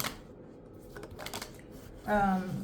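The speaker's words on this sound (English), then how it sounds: "So we're just gonna shuffle some cards." Tarot cards shuffled by hand, a few soft riffling bursts close by, then a short louder pass at the end.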